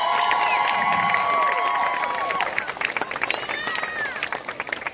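Crowd cheers and claps for an Eritrean youth dance group at an Independence Day picnic in Seattle, loud and sustained, with high whistles and shouts riding over the din before it thins out toward the end.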